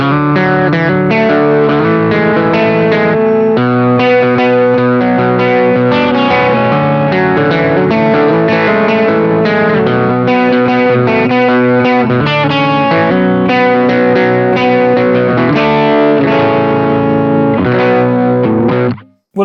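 Electric guitar runs through a Boss OD1 overdrive on the middle pickup, sustained distorted chords and picked notes with a snappy front-end attack, played continuously and loud with no talking.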